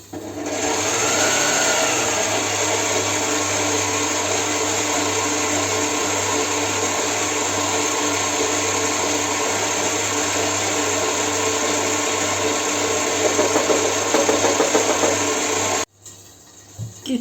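An electric mixer whips butter or margarine into batter for a prune cake, a loud, steady close whir that runs unbroken for about sixteen seconds, then cuts off abruptly.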